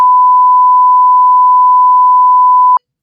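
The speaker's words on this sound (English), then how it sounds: "We should beep that out like we've done before" A steady, loud censor beep holds one pure tone for nearly three seconds, then cuts off abruptly into silence, with no other sound.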